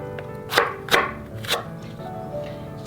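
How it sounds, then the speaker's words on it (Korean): A knife slices fresh okra into pieces on a cutting board for an okra and tomato stew, giving three or four crisp, separate cuts close by, with no talking. "작은 거는 반 정도만 이렇게 썰어주는데요"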